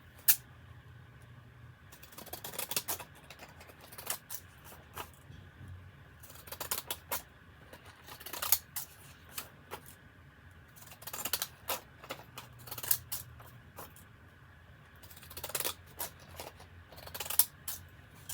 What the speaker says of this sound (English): Let's get us some scissors.